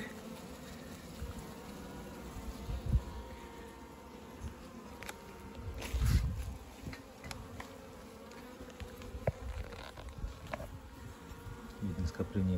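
A steady, close hum of many honeybees buzzing, with occasional louder passes of single bees near the microphone, no talk.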